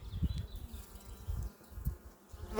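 Honeybees buzz on a hive frame, a close, steady low hum with pulsing swells, and a brief handling rustle near the end.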